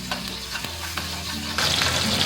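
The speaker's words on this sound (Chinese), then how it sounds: "先把料头放上去给它爆香" Garlic sprouts, dried chili pieces, red chilies, scallion, ginger and garlic stir-fried in a generous amount of hot oil, a steady close sizzle with scraping stirs, getting louder toward the end, no talking.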